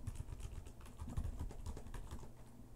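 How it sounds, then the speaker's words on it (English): Keys tapped on a computer keyboard while someone types in a live chat, a quiet, uneven patter of clicks in bursts, close by with no talking. "I'm typing in the chat."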